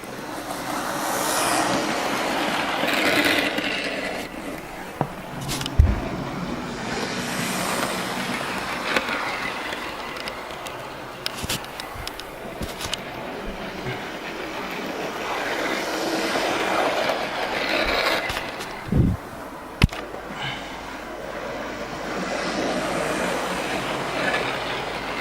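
A small electric Hornby SR 2-BIL model train clatters along its track with rhythmic clicking and rumbling, occasional sharp knocks, and no voices.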